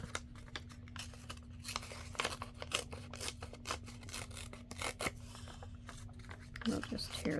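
Paper torn by hand for scrap crafting, rough tearing and crinkling rasps in quick uneven strokes close by, faint and steady with a low hum beneath.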